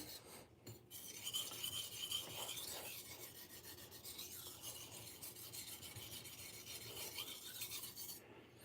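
A kitchen knife, a short nakiri-style blade, rasps against a sharpening stone in steady rhythmic strokes, close but quiet, with a gritty scraping texture and no talk.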